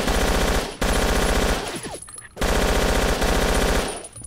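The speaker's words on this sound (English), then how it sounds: "We'll gun down some Croat soldiers with our Zastava" Sustained bursts of Zastava machine gun fire in Battlefield Yugoslavia, a war game set in Mostar, loud and close, two long rattling volleys split by a short pause.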